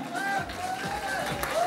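A crowd applauds the winner of a 10 km road race at a prize-giving in Haarlem, steady clapping from a distance with a voice over the public address running through it.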